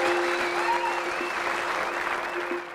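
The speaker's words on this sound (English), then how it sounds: "That was definitely worth a round of applause, ladies and gentlemen" A crowd at the Goodwood motoring event claps for driver Jenson Button after a fast lap in a McLaren P1, a dense, loud sustained applause with a faint steady tone underneath that fades slightly at the end.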